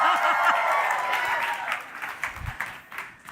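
Audience applause at an awards gala, a brief burst of clapping that fades quickly, with a faint voice heard early on over the clapping.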